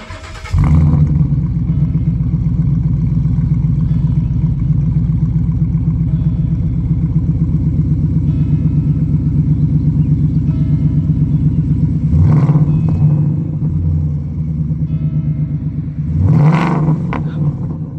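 A 5.0-litre V8 car engine fires up and settles into a loud, steady rumbling idle close by, with two sharp revs blipping out near the end.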